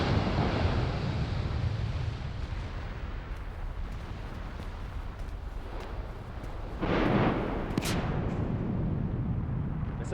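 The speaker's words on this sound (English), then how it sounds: "That's a fabulous explosion, but it's relatively small." Small volcanic explosion at a crater on Mount Yasur, a broad roaring rumble swelling and fading under wind buffeting, followed by a second short surge of noise later, with no speech.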